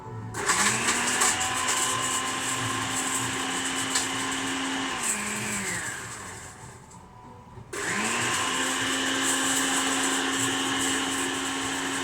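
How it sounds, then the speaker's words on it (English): A blender whizzes up lemongrass for a Thai red curry, a loud steady motor whine that runs about five seconds, winds down, then starts again after a short pause and keeps going alone. "I'm going to whiz up this lemongrass and we'll see what happens."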